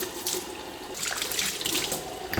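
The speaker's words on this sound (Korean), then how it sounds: "온수도 나오나 한번 틀어봐야 되겠네요." Hot water runs steadily from a newly installed waterfall-style kitchen sink faucet, a close, continuous rushing splash into the basin with no talk.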